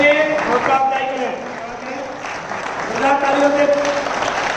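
An audience at a workers' safety day event, where sports kits are handed out, breaks into sustained clapping that runs beneath voices and a tonal background.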